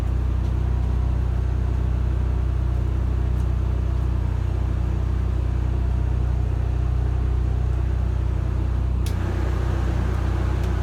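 A replacement generator drones on continuously with a steady low rumble, loud and even throughout, and no voices.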